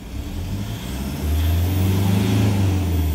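A Toyota Prado engine builds revs under acceleration, a steady low rumble that swells louder partway through with no load on it, close and continuous.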